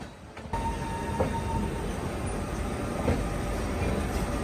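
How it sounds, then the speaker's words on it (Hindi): An Alco diesel locomotive shunting at a Delhi railway station, a steady loud engine rumble close by that holds evenly throughout, with no speech. "ये अलग लिवरी में पेंटेड एल्को लोकोमोटिव अब बस शंटिंग का काम ही देखते हैं"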